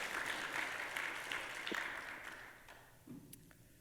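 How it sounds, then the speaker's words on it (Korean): A church congregation claps in congratulation, with fairly faint, distant applause that gradually dies away, followed by a few scattered taps. "우리 한번 큰 박수로 축하를 한번 드릴까요?"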